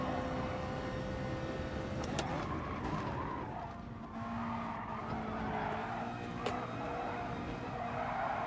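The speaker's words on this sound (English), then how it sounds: "Ferrari is just drifting through every corner." A Ferrari race car drifts through corners in the GT Sport racing game, its tires squealing loudly and continuously over a steady engine drone, with the pitch of the skid shifting as it slides through each bend.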